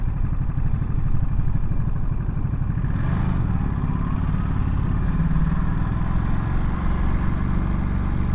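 A 2022 Ducati Monster Plus engine runs under a rider, a steady throbbing drone with a brief rising rev partway through, loud and continuous alongside wind rush.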